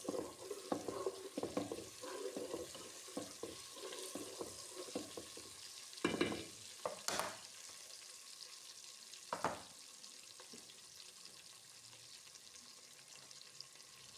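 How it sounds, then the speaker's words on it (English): A spoon scrapes and stirs a jollof rice base in a pot, with a run of quick, rhythmic strokes over a soft background sizzle, a few louder knocks midway, then quieter stirring. "so I'm going to stir this."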